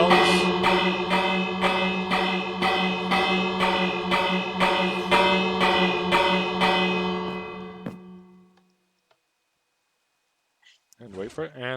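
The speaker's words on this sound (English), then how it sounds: "Bells." A bell in the video game Minecraft, set off by a redstone mechanism, rings about a dozen times in a steady, resonant rhythm that ends in silence before a voice briefly starts talking.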